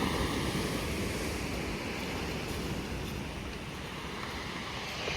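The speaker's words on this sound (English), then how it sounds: "You've got all the big waves," Big sea waves wash and roll onto a pebble beach at Ladram Bay in Devon on an evening shore, a constant dense roar with some wind buffeting the microphone, no talking.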